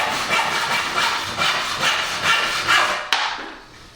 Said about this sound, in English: I'm going to just cut that little angle off now